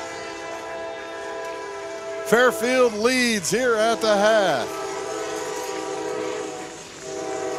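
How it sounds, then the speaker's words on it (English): A train rolls past a high school football stadium, its horn sounding in several loud, wavering blasts over the steady rumble of rail cars while an announcer talks. "the train rolls through"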